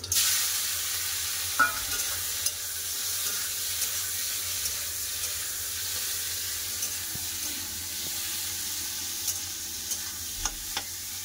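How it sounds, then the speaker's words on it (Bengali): Shrimp fry in hot mustard oil in a kadai, giving a faint, even sizzle with a few light clinks and scrapes scattered through and no voices. "তেল গরম হয়ে গেছে, দিয়ে দেবো চিংড়ি মাছ।"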